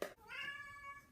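A pet cat gives a single drawn-out meow, close and fairly soft, heard on its own with no talking.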